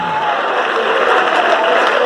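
Church congregation applauding during a worship service at an IPDA assembly in Araraquara, Brazil, a steady, loud wash of many hands clapping together with a faint crowd murmur.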